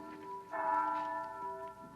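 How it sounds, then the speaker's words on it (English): A church bell at St. Boniface, used as a sound effect in an old radio drama, tolls faintly and steadily over a low broadcast hum, with no voices heard. "That's the bell at St."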